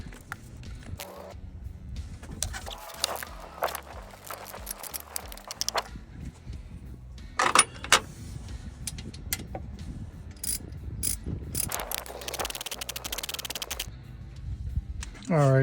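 Alternator mounting bolts on a 2015 Camaro SS are loosened with a ratchet: repeated clicking ratchet bursts and metallic clanks, close up, scattered across the clip with quiet pauses between.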